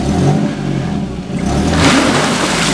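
A Suzuki Grand Vitara stuck off-road revs hard, its engine roaring loud and close and rising in pitch toward the end, with strained, surging throttle and no voices over it.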